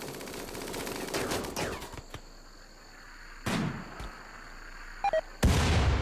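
Gunfire in the video game RimWorld: a rapid rattling burst at the start, then isolated sharp shots and short bursts separated by quieter gaps, moderately loud with no talk over them.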